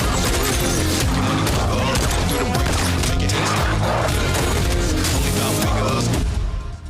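Bursts of gunfire and crashing impacts in a film trailer, dense and loud over a driving music score, with rapid volleys running throughout the whole stretch.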